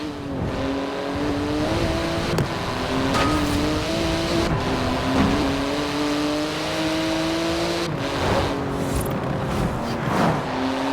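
A Porsche GT2 RS engine in the video game Forza Horizon 4 drones steadily under load, rising and falling in pitch through gear changes with brief shifts, loud and close with no talk over it.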